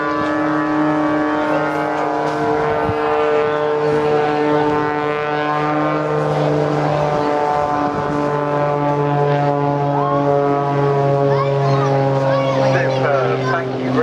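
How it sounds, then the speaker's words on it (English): Rich Goodwin's muscle biplane performing an aerobatic display at the Clacton-on-Sea air show in Essex, a steady loud droning propeller engine with strong harmonic tones sustained throughout, while an announcer talks over it. "Rich Goodwin in the muscle biplane"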